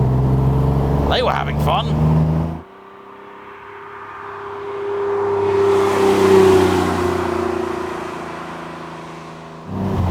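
A Porsche 911 drives past as a single rising and falling engine note that swells to a peak mid-pass and fades, with people talking over the start and end.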